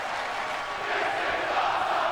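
Video-game wrestling crowd from WWE 2K cheers and roars as a steady, dense wash of distant voices, with no commentary over it.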